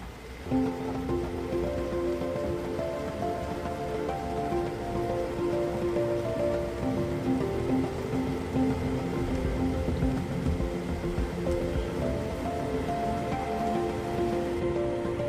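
Rain falling steadily on a shelter at a mountain campsite, a constant close hiss of drops with a low background drone and no talk.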